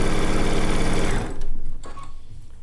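A sewing machine runs fast and steady while piecing quilt seams, a rapid mechanical whir that stops abruptly partway through, leaving faint handling clatter and quiet room noise.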